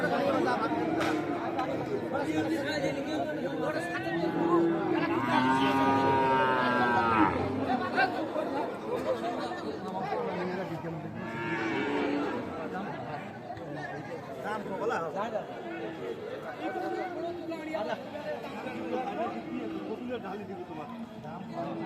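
Australian and Friesian bulls at a busy Bangladeshi cattle market, with a low drawn-out moo rising briefly around the middle beneath constant crowd chatter and people talking nearby.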